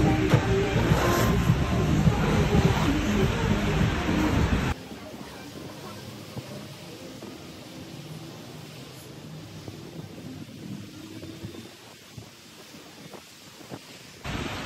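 A Moscow metro train rumbles along loudly at first, then drops to a quieter steady hum of a carriage in motion, with faint voices in the background.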